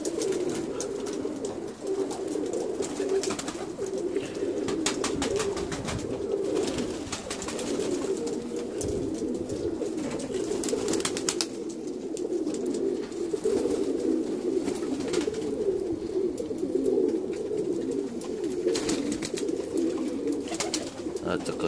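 Pigeons kept in a UK loft coo in a low, steady, overlapping chorus close by, with sharper fluttering or scratching bursts scattered through.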